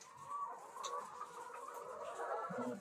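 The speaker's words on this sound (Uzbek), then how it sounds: "o'sha mashhur Germaniyada chiqarilgan Lomon singli tovuqlarimiz" Lohmann laying hens, a German-bred egg-laying breed, cluck steadily in a poultry house, a dense continuous murmur of many birds with a few louder calls rising near the end.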